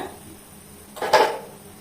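A single clattering metallic knock of an iron pan being set down on a stove, brief and fairly close, in an otherwise quiet room.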